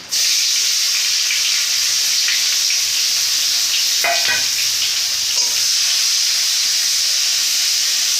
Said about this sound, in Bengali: একটু লাল লাল করে হালকা ভাজা হবে পেঁয়াজটা